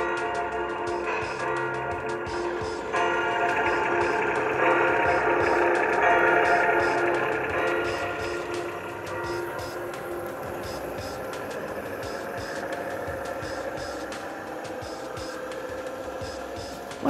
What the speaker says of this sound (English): Oh my goodness, this thing looks and sounds amazing. Turn the throttle, I command you.